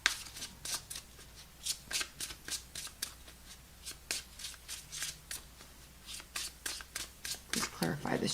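Tarot cards are shuffled by hand, with quick papery riffles and slaps in uneven bursts close to the mic. Speech runs over the shuffling.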